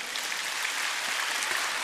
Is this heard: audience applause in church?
yes